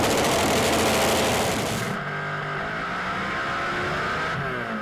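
A Pro Mod drag racing car at a British Drag Racing Championship round roars down the track, a loud high-revving engine blast that eases slightly as it pulls away, alone without talk.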